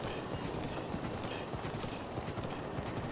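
Rhythmic hoofbeats of a horse at a steady gait in The Legend of Zelda: Breath of the Wild, quiet and continuous with no talking.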